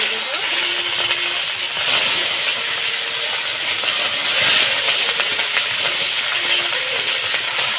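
Chili powder and panch phoron five-spice sizzling in hot oil for a vegetarian pea-leaf ghonto with bori, a loud, dense, continuous hiss that holds steady close by, with faint background tones.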